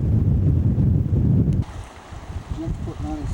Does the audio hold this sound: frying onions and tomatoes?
no